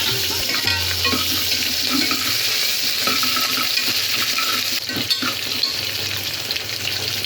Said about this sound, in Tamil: கொஞ்சம் லைட்டாக இஞ்சி பூண்டு, வெங்காயம், பச்சை மிளகாய் சேர்த்து நல்லா வதக்கிடுவாங்க